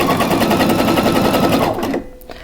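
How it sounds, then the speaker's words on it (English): A sewing machine stitches lace onto lingerie fabric with a loud, fast, close rhythmic chatter that runs steadily and then stops abruptly near the end, leaving a faint click. "then I can sew it just as with the other one"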